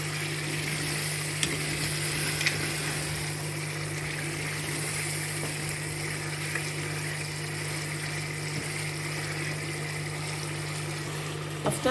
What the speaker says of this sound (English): Add the fish and stir.